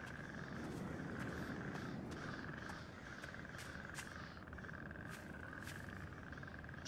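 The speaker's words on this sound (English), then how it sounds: "Look at that frog. It's moving." Frogs croak around a fountain in the video game Pineview Drive, a steady repeated croaking at moderate distance with faint clicks and ambient noise, no talking.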